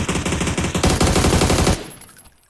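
Automatic gunfire on PUBG's Sanhok map, a rapid close burst of shots in a tight rhythm for under two seconds before cutting off abruptly and fading into quiet.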